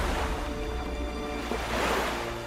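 Water-bending effect from an Avatar visual novel game, a rushing wave-like wash of surf that swells toward the end, moderately loud and heard alone.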